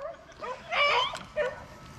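A female dog gives a few short yelping barks and whines close by, in quick uneven bursts, during a rabbit hunt.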